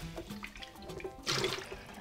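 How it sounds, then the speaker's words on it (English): Tap water rinses a blender jug in a brief, close splash that swells about halfway through, with water running steadily to the end. "Just make sure there's no food left in the jug, and then you rinse it briefly under the tap."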